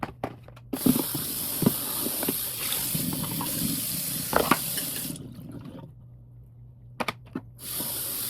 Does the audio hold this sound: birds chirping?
no